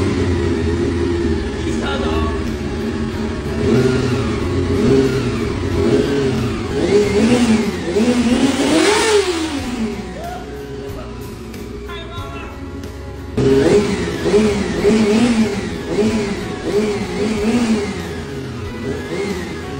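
A Honda CBR motorcycle engine, running again after four years off the road and a repair, is revved hard and up close. Its roar rises and falls in repeated surges, with one brief dip between runs.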